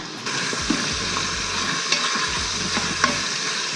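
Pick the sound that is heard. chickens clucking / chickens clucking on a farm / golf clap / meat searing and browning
meat searing and browning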